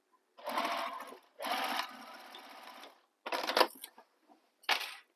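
Close bursts from a sewing machine running along a bag's side seam: two longer runs, then shorter spurts separated by brief silences.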